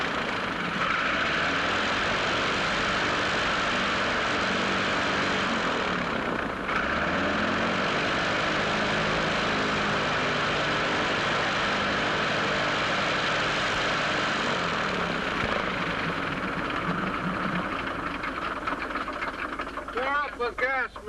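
Propeller airplane engine drones steadily throughout in a 1932 film scene, a continuous loud hum that stays constant with only slight variation, while voices talk faintly under it.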